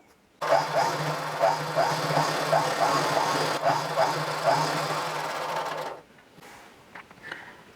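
A pico machine stitches the edges of a saree with a close, rapid mechanical whirr and a regular rhythmic clatter that runs for several seconds, then stops, leaving only faint handling noises.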